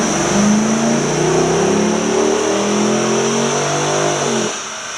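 A 2011 Chevy Caprice fitted with headers roars steadily on a dyno, its engine note climbing through a long, loud sustained pull before cutting off abruptly near the end.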